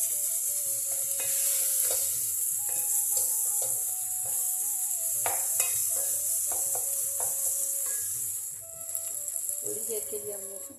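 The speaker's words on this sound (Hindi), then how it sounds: "अब हम इसको भूनेंगे।" Minced meat filling with cumin powder and garam masala frying in a pan, a constant bright sizzle with intermittent spatula scrapes and taps throughout, close by, without speech.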